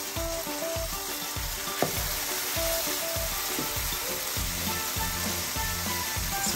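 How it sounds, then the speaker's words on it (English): Butter-soaked French toast bread fries in a pan with a loud, continuous sizzle and a regular thumping beat running beneath it, heard up close with nobody speaking. "Put your bread down and just pan fry that until it's like golden."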